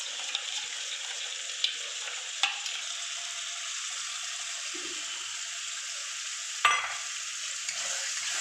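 Katla fish head kalia being sautéed in a pan with sugar-beaten yogurt, a steady soft sizzle with occasional sharp clinks of a spoon against the pan and faint stirring scrapes, no voices.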